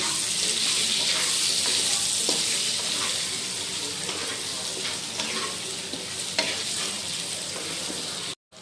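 Salted potato pieces frying in a pan, a loud steady sizzle close by, broken by stirring scrapes and a few knocks, with no voices.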